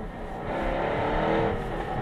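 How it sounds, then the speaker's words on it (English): A Jaguar F-TYPE R with selective active exhaust growls past at moderate distance, a rising and falling engine roar with a rough, snarling edge. "With the selective active exhaust, it snarls, crackles, and pops all the time."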